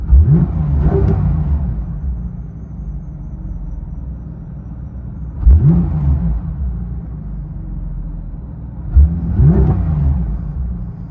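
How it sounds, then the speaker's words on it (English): 2018 Porsche 911 GT3 RS with a 4.0L flat-six, custom X-pipe and straight pipes, muffler deleted, revved three times; each sharp, loud rev rises then falls back to a deep rumbling idle. "Porsche GT3 RS with a custom X-pipe straight pipe system."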